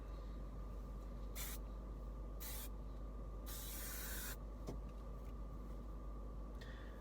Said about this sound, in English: put a little hairspray in